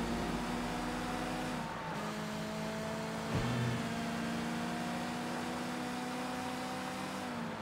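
Race car engine in the Sleeping Dogs video game, a steady droning hum that holds its pitch with brief shifts, heard as a continuous close roar without talk.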